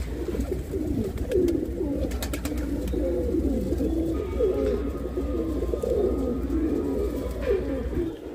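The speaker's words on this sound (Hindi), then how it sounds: "यहाँ पे जो है अपने सभी कबूतर आ चुके हैं बाहर" Several pigeons cooing continuously at close range while feeding on grain, soft repeated low coos with a few faint rustles and bird sounds in the background.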